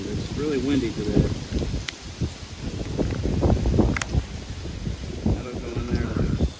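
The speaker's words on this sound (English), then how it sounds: "it's really windy today" Strong wind blows outdoors during work installing LED cab, marker and head lights, a continuous buffeting rumble hitting the microphone hard, with a voice speaking over it.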